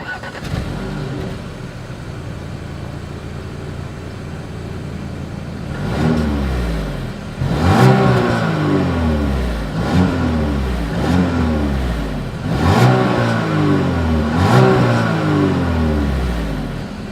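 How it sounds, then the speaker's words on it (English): The exhaust of a 2020 Audi Q5 idles steadily, then revs up sharply three times in a row, each rev climbing and falling back. It is loud and close, with no talking. "As always, here is that exhaust clip."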